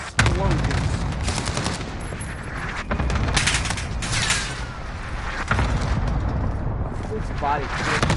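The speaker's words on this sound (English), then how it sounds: "That's a lot of explosions." Dense, continuous bursts of gunfire and booming explosions in Call of Duty: Modern Warfare, loud and chaotic throughout, with occasional voices talking over the barrage.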